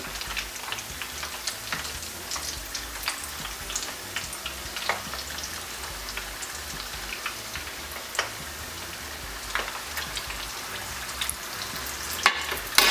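Coconut shrimp frying in hot oil on a stove, a continuous dense sizzle with frequent small pops and spits, close-up and steady from start to end.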